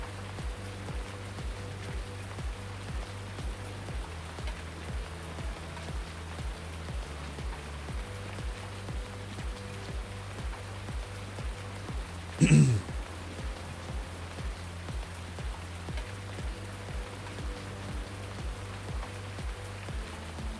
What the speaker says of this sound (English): Rain is so depressing,